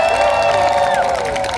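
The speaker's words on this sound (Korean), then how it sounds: "이건 박수 2배" Crowd at an outdoor political campaign rally in Daegu cheering and applauding, a loud, dense, continuous roar with whoops and shouts throughout.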